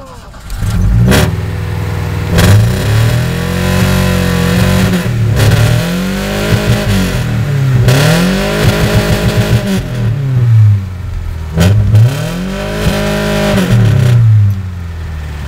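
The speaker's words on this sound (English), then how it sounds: "All that noise out of that four-cylinder?" A loud four-cylinder car engine revs hard in repeated bursts, climbing and dropping in pitch over and over at close range, with brief lifts of the throttle between pulls.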